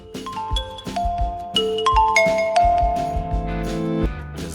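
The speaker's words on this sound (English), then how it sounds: "Oppo." Oppo smartphone ringtone: a bright, chiming melody of clear bell-like tones in quick succession, loud and alone with no talk.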